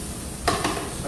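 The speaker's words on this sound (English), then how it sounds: "Sauteing the onion." Onions sautéing with a pinch of salt in a pan, a soft steady sizzle broken by two quick scraping stir strokes, close and brief with no talking.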